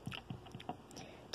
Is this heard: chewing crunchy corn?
yes